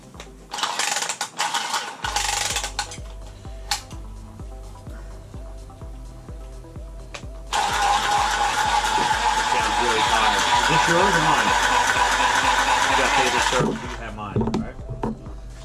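Copper pipe is cut during plumbing repairs. A rhythmic, evenly ticking mechanical sound, like a tubing cutter being turned, repeats steadily under intermittent talk, with a louder stretch of scraping hiss midway.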